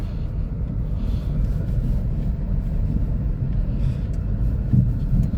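Car driven during a driving lesson, a low, steady engine and road rumble from inside the cabin, even and continuous with no clear speech.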